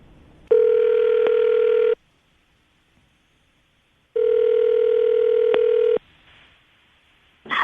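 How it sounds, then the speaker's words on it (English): Ringback tone on an outgoing phone call heard down the line: two long steady electronic rings about 1.5 seconds each, separated by a silent gap, loud and clear with no talking. "I'm going to dial the phone number right now, see if we can get her on the phone"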